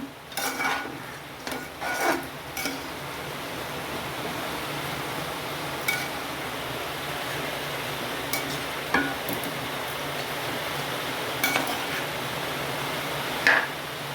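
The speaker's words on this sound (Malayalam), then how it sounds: "ഇതിലേക്ക് ഇനി ഇറച്ചിടാം ഇട്ട് ഇനി ഇളക്കി കൊടുക്കുകയാണ്" Beef being stirred into cooked-down masala in a pan for a Kerala-style beef curry, with soft scraping and rubbing of a spoon against the pan, a few sharper knocks and clinks, fairly quiet and alone.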